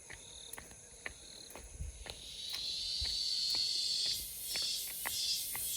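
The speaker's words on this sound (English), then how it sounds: "Here we have a cicada singing for us, sound healing, natural sound healing on this walk." A cicada sings during a nature walk, its high buzzing drone swelling steadily and pulsing louder toward the end, with soft footsteps ticking underneath outdoors.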